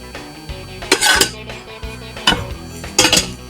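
Metal lid set onto a cooking pot in a home kitchen, giving a few sharp clanks and rattles spaced over a few seconds with quieter handling between.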